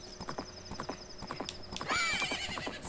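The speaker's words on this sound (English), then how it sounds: "Guess what, horsey? Oh, right. Yes, it's the horse." A horse in the video game Majora's Mask trots with steady, close clip-clop hoofbeats, then lets out a loud, rising whinny near the end.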